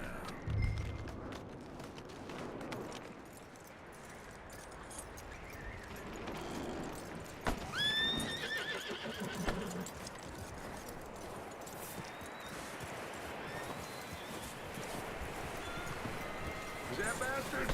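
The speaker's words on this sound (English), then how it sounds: "That looks like a decent horse." A horse in the Red Dead video game moving at a walk, soft clip-clop hoof steps over a busy game ambience with rustling, a brief whinny-like squeal midway, and voices speaking.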